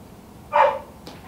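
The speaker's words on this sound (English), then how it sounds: "the dog's not happy." A single short, sharp dog bark or yelp sounds out close and clear, followed by a faint higher whimper, over a quiet indoor background.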